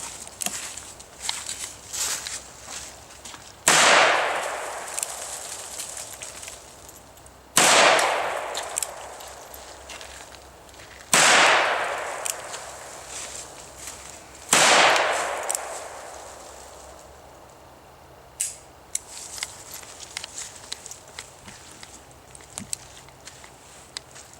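Four loud gunshots from a Ruger New Vaquero revolver firing cowboy action ammunition, spaced a few seconds apart, each followed by a ringing decay, with fainter clanks and movement between them.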